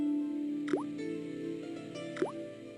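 Two distinct water drips from a faucet in the Broken Sword video game, each a sharp plop with a rising tone, spaced over a second apart above a steady ambient hum.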